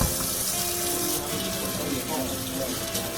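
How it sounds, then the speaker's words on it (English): Hands being washed under a running kitchen tap while cooking sloppy joes, a steady close gush of water continuing throughout, with faint voices and some tonal background sound underneath. "let me wash my hands too"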